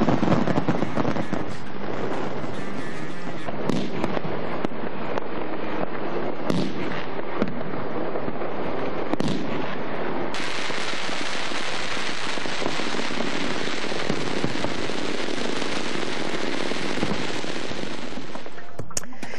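New Year's midnight fireworks burst over cities in a dense, continuous barrage of crackling and popping explosions, with rapid firecracker-like rattles and some wind rumble throughout.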